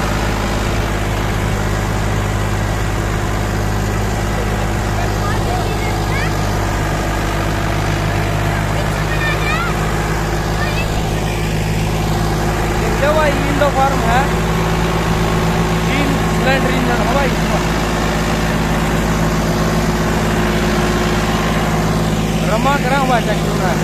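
An Indo Farm 3055NV tractor with only eight hours of use runs with a loud, steady diesel drone and constant low rumble, close by, with people talking over it.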